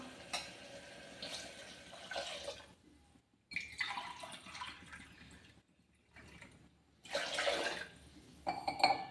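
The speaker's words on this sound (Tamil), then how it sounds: "இப்போ நம்ம தண்ணி ஊற்றிக்கலாம்." Water poured from a glass into a cooking pot while preparing kuska, in a few separate pours with short pauses between them, nearby and moderately loud.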